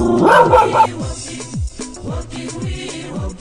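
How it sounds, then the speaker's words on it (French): A dog barks repeatedly at close range, short sharp barks in an uneven rhythm with brief whimpering tones between them. "Pop, la mascotte du village, aboie."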